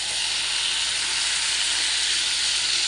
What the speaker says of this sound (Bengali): ভাজবো লুচি।